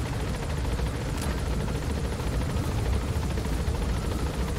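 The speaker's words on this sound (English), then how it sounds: "you can't just be moving around in a moving helicopter" A helicopter thunders close and loud in Metal Gear Solid V, its rotor chop and engine roar forming a dense, continuous wash with no voices.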